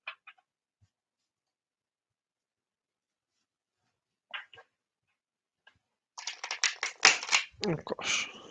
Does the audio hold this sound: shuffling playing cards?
yes